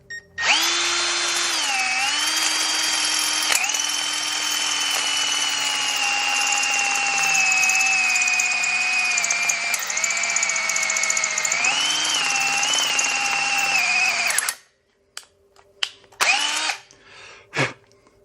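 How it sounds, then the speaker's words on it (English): A power drill with a drill bit bores into a junk Volkswagen engine, whining steadily and continuously for about fourteen seconds with slight pitch dips, then stopping and leaving a few brief clicks and clattering knocks. "That's one crappy drill bit."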